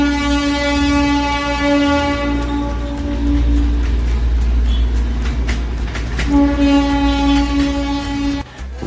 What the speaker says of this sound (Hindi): दार्जिलिंग टॉय ट्रेन को एक्सप्लोर करने के लिए।